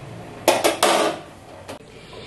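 A metal lid set onto a pot of sweet Bengali pulao rice cooking in hot water, three quick clanking knocks in a row, then one softer clink a moment later, close and clear with no talk.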